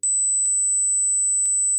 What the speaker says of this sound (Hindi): अगर आप ये 8000 हर्ट्स वाला साउंड सुन पाए तो मुबारक हो